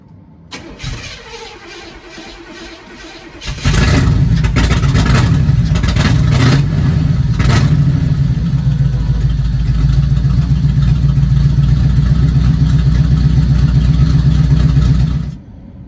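A cheap, very loud Chevrolet Corvette engine starts with a brief crank and then catches, settling into a loud, steady, rumbling idle that runs to the end before cutting off.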